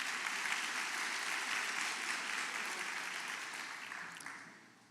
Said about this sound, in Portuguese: Vamos aplaudir a Leilane.